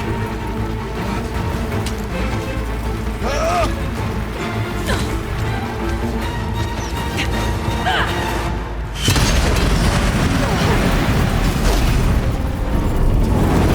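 Explosions and crashing impacts sound during combat in Horizon Zero Dawn: The Frozen Wilds, over a dense, loud rumble that swells abruptly into a heavier, sustained roar midway.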